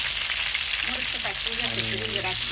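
Onions frying in a pan for a shrimp and greens curry, a dense continuous sizzle with a voice talking faintly over it.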